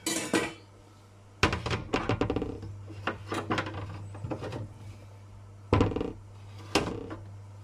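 Chopped potato pieces dropped into a bowl in a home kitchen, several clattering knocks and scrapes in irregular bursts with quiet pauses between, close and moderately loud over a steady low hum.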